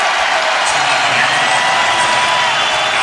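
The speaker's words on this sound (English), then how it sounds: "The crowd noise you hear" A college wrestling crowd at the Big Ten Championships cheers loudly during a 133-pound final between Rutgers and Ohio State wrestlers, a loud, continuous roar of shouts and whoops filling the arena.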